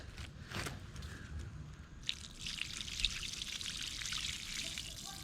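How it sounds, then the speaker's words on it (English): Rinse water pours steadily from a 1965 VW Beetle fuel tank in a soft, continuous hiss that fills the second half, preceded by a brief trickle and a faint clink. "here's the second rinse. Let's see how dirty this water is."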